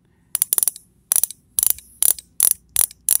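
A fishing reel's pawl ratchets during disassembly, giving quick clusters of sharp metallic clicks in short bursts separated by brief pauses, close and crisp with no talking.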